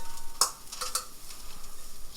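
Potatoes on an oven tray giving a soft, steady sizzle close by, broken by a few bright metallic clinks and scrapes of the tray.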